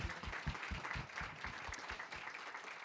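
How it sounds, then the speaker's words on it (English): An audience at a university Three Minute Thesis final applauds with dense, steady clapping that fills the room throughout, fairly distant and even. "One big round of applause for all of this."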